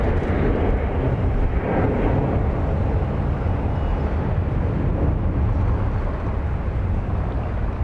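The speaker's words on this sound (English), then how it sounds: "meanwhile, we've got a takeoff" A jet airliner taking off at Dallas Love Field, a steady loud broadband engine roar holding constant throughout with no voices.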